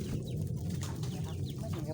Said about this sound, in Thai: อันนี้ก็ฟาร์มไก่ครับ